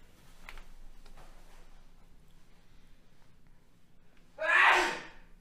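A single sharp sneeze from someone bursts out near the end, loud and close, after a stretch of quiet room tone with a few faint murmurs and ticks.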